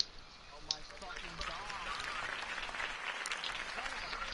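Crowd applause at a campaign speech in a video game, a steady wash of clapping that swells after a brief quieter start and holds at moderate level to the end.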